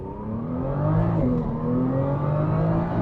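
A Nissan GT-R NISMO (R35) with 150,000 miles and a rebuilt transmission revs hard under wide open throttle near redline, a loud steady roar climbing in pitch with a brief dip as a gear changes.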